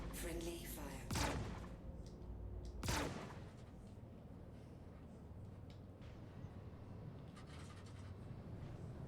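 Gunfire in a space video game: two sharp, loud blasts a couple of seconds apart, then quieter crackling shots and a low rumble, with faint talk in the background.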